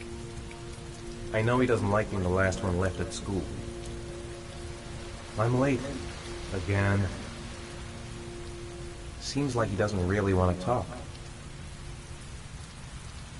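Steady rain patters in the video game Heavy Rain, a constant soft hiss of drops underneath a humming tone, while a voice talks in three short stretches over it.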